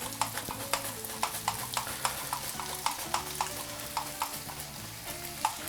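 Breakfast frying in oil in a shaping pan right after being flipped: a steady close sizzle with regular sharp clicking taps, over a low tonal hum in the background.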